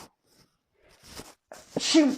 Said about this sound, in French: En plus, j'éternue du côté du micro, alors super.